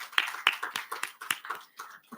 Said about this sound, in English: A big round of applause for Kritika Jalan.